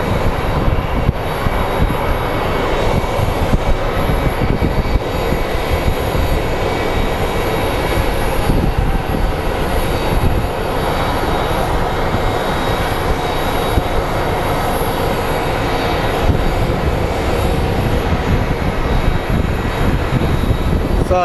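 Delta flight 2142 from Minneapolis arriving at Phoenix Sky Harbor International Airport, a steady, loud roar of airliner engines holding at a constant level throughout, without voices.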